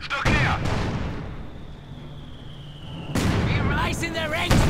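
Mortar fire in the strategy game Company of Heroes 2 during a 1v1 match: booming artillery blasts with whistles and clatter, under a commentator's talk.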